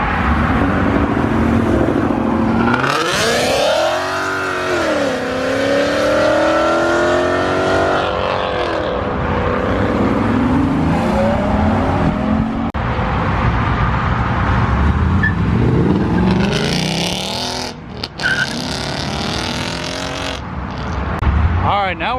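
Mopar muscle cars rev hard and pull away from the Twin Peaks car show, loud engine roars rising and falling as they accelerate past, with crowd voices and talking mixed in throughout.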